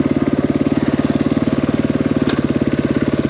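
A KTM 500EXC-F dirt bike with shorty extensions runs close by, its single-cylinder engine thumping at a steady rapid pulse with no talk.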